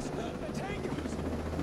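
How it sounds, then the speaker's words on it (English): A non-attack helicopter in the video game Ghost Recon: Breakpoint drones steadily with a continuous rotor whir throughout, partly under a voice talking. "This is a non-attack helicopter."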